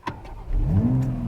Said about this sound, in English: when you start up the car, there's like this little pop once you start up the car